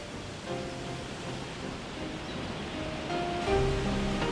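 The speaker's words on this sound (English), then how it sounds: "We heard this waterfall." A waterfall in Shenmue II gives a steady broadband rush of falling water, with faint tonal game sounds layered over it and a slight swell near the end.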